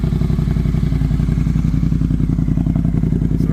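Triumph Speed Twin motorcycle fitted with a Cone Engineering exhaust idling up close, a loud, steady, even pulsing beat that holds alone throughout.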